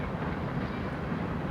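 Several BNSF freight locomotives roll through the Barstow rail yard in California. Their dense, steady rumble and rolling noise fill the scene at close range, with no talking.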